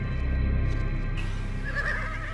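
A horse whinnies loudly at close range with a long, shaky, fluttering call, and there is a low rumbling background behind it.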